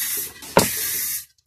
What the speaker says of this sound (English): Much easier to spray.